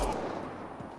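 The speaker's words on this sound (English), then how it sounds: "They shot him." A single gunshot cracks sharply at the start, then decays into a dull rumbling tail with no voices.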